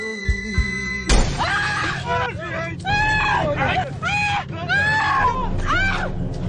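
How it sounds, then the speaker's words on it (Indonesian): Car window glass shatters with a sharp crash in a film scene, followed by agitated shouting and screaming voices over a noisy background. "melihat seorang pria bertopeng memecahkan kaca mobilnya"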